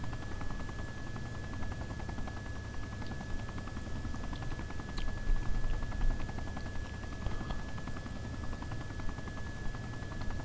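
Helicopter from the Arma 2 military game pursuing the player, a steady rotor drone thudding continuously throughout with a faint high whine, mid-distance and unbroken, with no talk.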